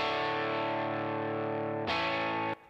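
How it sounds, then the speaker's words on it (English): Single coil Telecaster electric guitar part, processed with effects and slight distortion, rings out as a sustained chord that changes near the end and then cuts off abruptly, alone and clear. "the first one I believe is like a single coil Telecaster kind of part"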